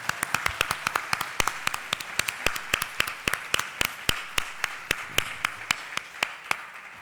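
A crowd applauds steadily, many sharp claps blending into a continuous, fairly close ovation with no voices over it.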